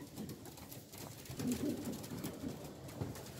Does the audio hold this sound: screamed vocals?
no